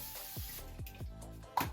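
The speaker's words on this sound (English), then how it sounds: "I have this just water spray." A handheld water spray bottle, used during a morning skincare routine, releases a few quick misting bursts in a loose rhythm, close and fairly soft, with no talking.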